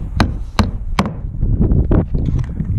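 Several sharp, loud strikes ring out at irregular intervals as nails are driven into 2x6 wall studs, each blow a short crack, with scattered lighter knocks and rustling from the framing work in between.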